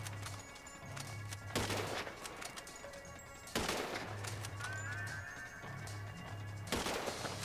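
Sniper rifle fire in Grand Theft Auto V: three sharp, loud shots spaced a few seconds apart, each with a short ringing tail, over a steady low game ambience.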